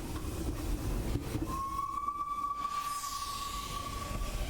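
A train rumbles along in a retro-style indie RPG, with a long sustained whistle sounding over the steady rolling noise of the cars.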